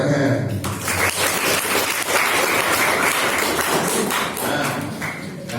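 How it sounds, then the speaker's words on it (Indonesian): Audience applause at a school leadership seminar and installation ceremony, dense steady clapping filling the room continuously at close range. "Harus dulu tepuk tangan."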